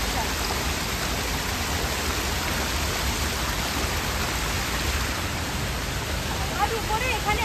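Steady, loud rush of water pouring down a waterfall, filling the whole clip as a dense unbroken roar close by, with no clear voices over it.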